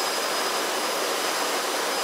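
A Jet Provost JP5 jet trainer on a low approach and go-around gives a steady, loud broadband roar with a thin high whine, sustained without a break.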